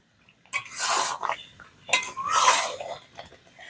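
Raw mango pickle being stirred together with spices in a bowl, giving two bursts of scraping and clinking around a second apart, fairly close and with no talk.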